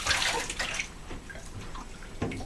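Bath water splashes and pours as a foot is rinsed in a tub, a bright burst of splashing at first that settles into softer trickles and a few small sloshes.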